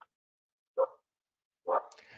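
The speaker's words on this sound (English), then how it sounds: "My dogs are going crazy right now." Dogs bark in two short bursts, one near the start and a louder, longer one near the end, with silence between and no talk.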